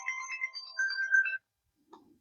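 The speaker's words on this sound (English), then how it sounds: "excuse me, that was my phone." A mobile phone ringtone plays as a bright, melodic electronic tune for about a second and a half, then cuts off abruptly, leaving near silence with a faint rustle at the end.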